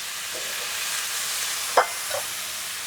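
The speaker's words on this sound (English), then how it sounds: "Put in our sweet potatoes" Sweet potatoes sizzling in olive oil in a pan, a steady close hiss with a brief clatter partway through and no talking.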